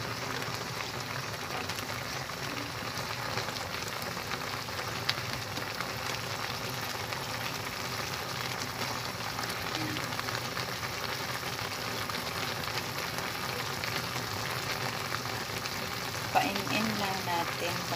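Kamias frying in oil in a pan, a steady soft sizzle and crackle that holds evenly throughout at low volume, with a small clatter near the end.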